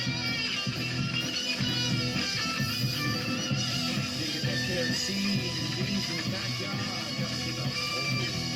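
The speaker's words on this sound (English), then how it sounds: "Here comes the solo." An instrumental solo from a funk song rewritten in a new style plays continuously at moderate level, with a steady rhythmic bass pulse beneath melodic lines and no talk.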